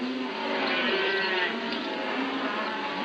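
Cattle, some twenty to twenty-five head held in a corral, give a drawn-out low moo over a steady murmur of other livestock.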